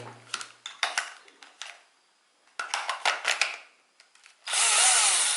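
A cordless drill with a deteriorating battery drives a screw in several short bursts, each whir rising and cutting off, followed by a longer steady loud run near the end.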